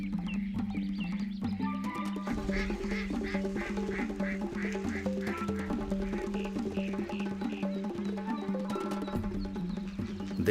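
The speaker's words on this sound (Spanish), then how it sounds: "Los patos son las aves más representativas y abundantes de los humedales." Ducks on a calm wetland lagoon quack steadily and repeatedly, many birds calling over one another in a continuous, fairly close chorus with no talk.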